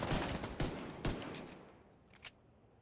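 Pistol shots in a video game, a few sharp bursts in quick succession with one fainter shot near the end, fairly close and with no one talking.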